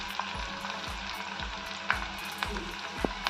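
Onions and curry leaves frying in a pan, a steady close sizzle with occasional light pops and a few faint utensil taps.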